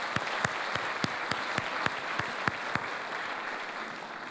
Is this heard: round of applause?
yes